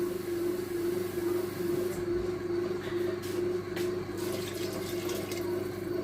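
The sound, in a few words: pouring liquid into a pot for soup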